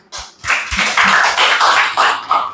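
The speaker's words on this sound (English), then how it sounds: "Give them a big round of applause for once again, please" Applause for students at a spoken-English training class in Lahore, a burst of hand clapping from a small group that starts with a few claps, then fills out into steady, fairly close applause.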